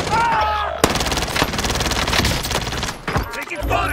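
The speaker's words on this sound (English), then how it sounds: "Taking fire!" Dense automatic gunfire from a Call of Duty Modern Warfare match, loud and continuous with sharp bursts, mixed with game sounds and occasional voices.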